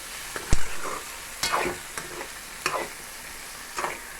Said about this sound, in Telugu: బాగా కలుపుకోవాలి. బాగా కలిపేసుకుంటే బాగా కలుస్తుంది.